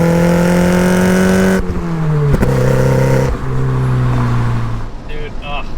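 Porsche 944 Turbo, a car over 30 years old, revving hard while driving; loud close engine note climbing and dropping through several shifts, with the rev fading out at the end.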